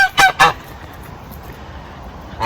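Geese in a garden honk loudly nearby, two or three quick harsh calls in a burst, then a quiet stretch with one more faint honk at the end.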